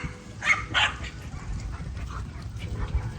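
Several dogs let outside bark in a couple of sharp, close bursts followed by softer whimpering yips over a low, steady background rumble.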